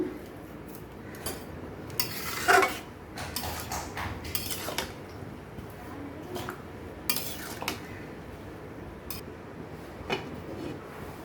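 Metal pot of banana flowers being set on a stove to boil with salt, with sharp clinks and scrapes of metal utensils and cookware at irregular intervals over a soft background hiss.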